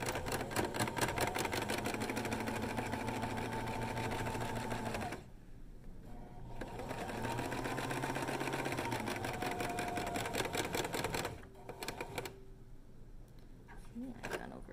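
A sewing machine stitches and backstitches a fabric face mask in rapid rhythmic bursts, with two brief pauses between runs, close and clear.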